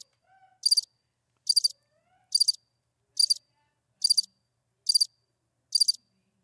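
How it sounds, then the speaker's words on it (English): Crickets chirping in a steady series of seven short, bright pulsed bursts, evenly spaced about every 0.8 seconds, clear and isolated against silence. "it's going to be so quiet you're going to hear crickets."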